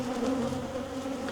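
Honey bees buzz at a farmyard hive, a steady, dense drone holding close and even throughout with no talk over it.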